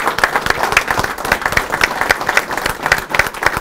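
Attendees at a regional county council meeting applaud, a brisk patter of individual claps from a modest group in a room, steady and moderately close for a few seconds.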